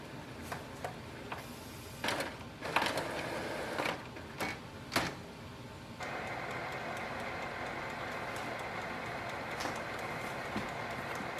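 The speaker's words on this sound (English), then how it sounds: "Wait for the printer to completely restart." Canon Pixma G5020 printer restarting, with quiet mechanical clicks and clunks followed by a steady whirring hum of the mechanism, faint and close.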